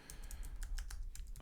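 Computer keyboard keys clatter in a quick run of crisp, close taps as a terminal command is typed while setting up a Bitcoin Core VPS, with no voices over it.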